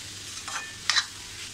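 Grated carrot being sautéed in ghee in a pan for gajar halwa, giving two short scraping, sizzling stirs close by against a quiet background.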